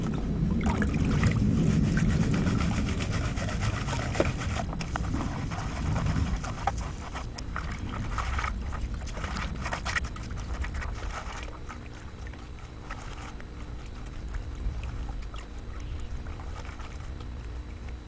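Gold pan worked by hand with water while prospecting in the Australian bush, a continuous swishing, sloshing wash of water that runs loud and steady for the whole stretch with no talk over it.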